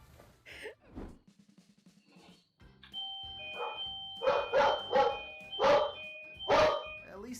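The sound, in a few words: doorbell ringing with dog barking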